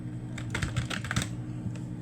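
Quick bursts of key clicks on a computer keyboard during a web design session, close and moderately loud, forming a short irregular run of keystrokes with a steady low hum underneath.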